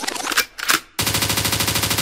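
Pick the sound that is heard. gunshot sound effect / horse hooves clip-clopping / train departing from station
gunshot sound effect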